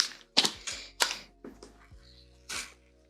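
Sharp blade or scissors cut through cork material for a tote, giving several crisp snipping crunches in an irregular rhythm, close and loud against quiet gaps.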